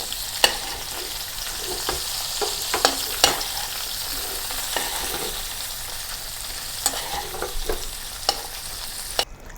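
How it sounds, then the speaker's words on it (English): Cooked shrimp and garlic stir-fried together in a hot pan, with a steady sizzle and the repeated scrape and clatter of a utensil tossing the ingredients, close and continuous with no voices. "now return the cooked shrimp back to the pan and mix together with the garlic"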